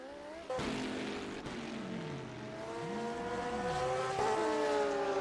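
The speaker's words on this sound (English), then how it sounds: "So Will having a little problem with the loose condition there, spinning this car" A GT3 race car spins off the track at Okayama International Circuit in a loose condition. Engine tones whine and swoop up and down as the car slides and recovers, with other cars droning close by throughout.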